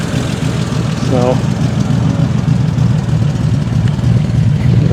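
A car engine fitted with Stromberg carburettors, replacing Webers, idles with a low, steady exhaust burble at the rear, running continuously under a brief spoken word.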